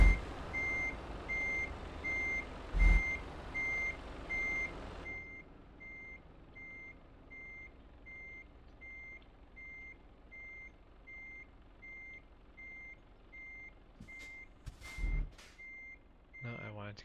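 A truck reverses into a parking spot to set down its trailer on a German delivery run, with a steady high reversing beep pulsing through the whole stretch over a low engine rumble and a few brief air-brake hisses near the end.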